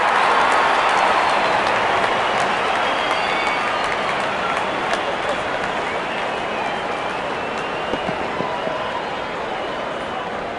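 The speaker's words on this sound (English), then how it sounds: "There's such a wonderful crowd in to watch their favourite players." Stadium crowd cheering in a Pakistan versus Sri Lanka cricket video game, a steady, loud wall of roaring spectators that carries on without a break for the whole stretch, with no voices standing out above it.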